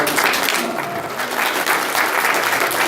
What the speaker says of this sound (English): maybe a little smattering of applause for yourselves for being here today